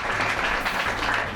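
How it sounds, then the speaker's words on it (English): An audience claps for prize winners at a quiz show awards event, producing a short, dense burst of applause. "Clap for you."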